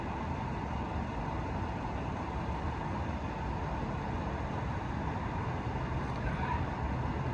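A Mercedes-Benz SL550 R231 with an HSM exhaust idles steadily, its low, even engine and exhaust rumble continuing without change and with no voices over it.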